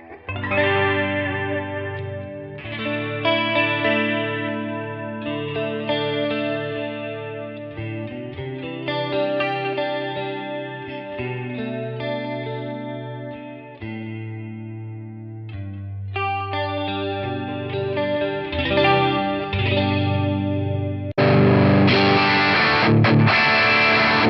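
Electric guitar played through presets on a NUX Trident NME-5 multi-effects pedal, moving from shimmering chorus tones to heavier distorted sounds, continuous and loud with no speech.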